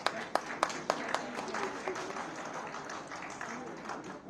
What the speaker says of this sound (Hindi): इनका स्वागत जोरदार तालियों के साथ कीजिए